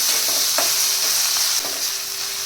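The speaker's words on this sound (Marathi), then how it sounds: "तो पण आता आपण ह्याच्यामध्ये छान फ्राय करून घेऊया।" Chopped tomato and onion sizzling and frying in a pan for mint egg bhurji, a steady close hiss broken by a few scraping stirs.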